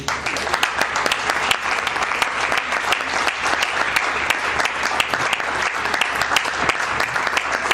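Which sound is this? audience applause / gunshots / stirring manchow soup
audience applause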